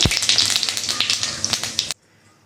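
Cumin seeds crackle and sizzle in hot white cooking oil in a pan, a close, busy run of sharp pops and hiss for about two seconds before cutting off to near silence.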